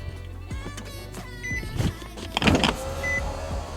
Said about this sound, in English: Roll the windows down.